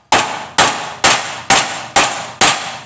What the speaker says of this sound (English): use the other end of the hammer